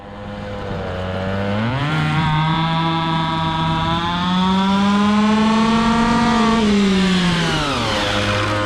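A 1:5 scale RC car's small petrol engine revs during carburettor tuning, a buzzing, chainsaw-like whine that climbs sharply, holds high and strained, then drops back to idle, sounding slightly lean at the top, close and alone.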